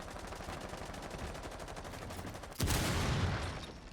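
Rapid machine-gun fire from a weapon with a 152-round magazine in a Rainbow Six Siege playoff match, a steady fast burst of shots, close and loud, swelling into a heavier, denser volley near the end.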